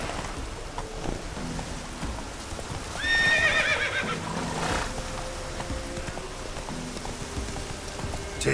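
Horse whinnying in The Witcher 3 video game, a rising neigh near the middle over a steady background of hoofbeats and rain-like noise, with no talking.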